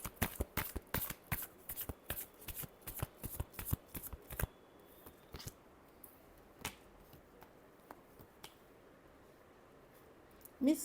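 A tarot deck is shuffled by hand in a rapid burst of crisp riffling card flicks, close and loud, then slowing to a few scattered taps before a pause and a final soft rustle.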